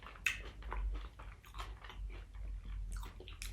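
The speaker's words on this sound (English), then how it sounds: "It's a caramel cornflake brownie, and the chocolate in it is so dark and the cornflakes so crunchy and so delicious." Someone bites and chews a crunchy caramel cornflake brownie made with dark chocolate and toasty cornflakes, giving close, crisp crunches and wet munching that repeat steadily with no talking.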